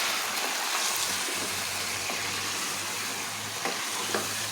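Chicken with ground spices being stirred in a frying pan, giving a steady sizzle with soft scraping strokes throughout, close and moderately loud with no talking.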